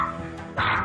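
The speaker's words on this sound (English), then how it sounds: "the dog's relentless barking catches the attention of the homeowner" A dog in a house barks sharply, two quick close barks breaking a whiny yelp.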